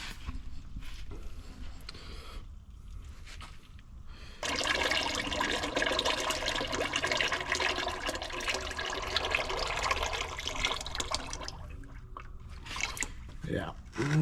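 Liquid pours and then dribbles into a pail outdoors in the fields, a sustained close splashing rush fading to a thin trickle, with people talking.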